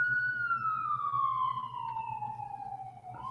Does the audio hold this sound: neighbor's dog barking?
no